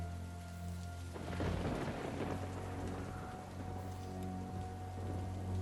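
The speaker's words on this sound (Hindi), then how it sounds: "बाहर बारिश रुकी नहीं है अभी।" Steady rain falls and patters on surfaces, with a low rumble of thunder rolling through in the background; no one speaks.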